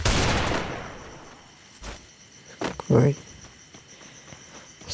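Gunshots in a Free Fire-style mobile shooter game ring out as a few short, sharp cracks spaced apart after a noisy opening burst, moderately loud in the game mix.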